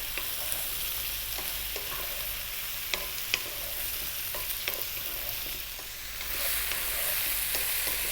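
Chili and mushrooms stir-fried in a pan for a vegan potato curry: steady close sizzling hiss with occasional scraping clicks of the spoon, continuous throughout and swelling slightly louder toward the end.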